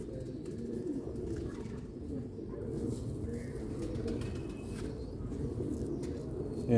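Low cooing of a black-faced pigeon repeats almost continuously, close and fairly loud, with a busy outdoor background behind it.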